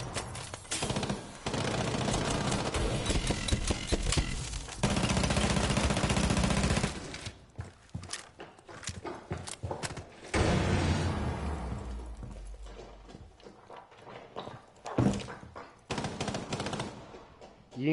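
Rainbow Six Siege gunfire on PS4, with long sustained automatic bursts for the first several seconds, then scattered shorter volleys and single shots, loud and dense, with no talking.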